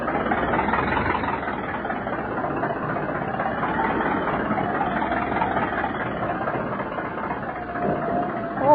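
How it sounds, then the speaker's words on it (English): Heavy ship engines run steadily and loudly throughout a radio drama scene, a dense continuous drone with no speech. "Those engines sound like the stern's coming clean out of the water."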